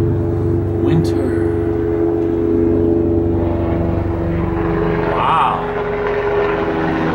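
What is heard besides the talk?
helicopter flying over the valley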